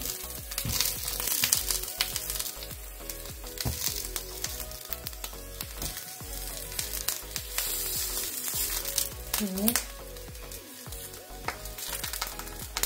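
Eggplant balls frying in a pan, with a steady sizzle and crackle of hot oil throughout and occasional soft stirring and turning sounds, close up and with no one talking.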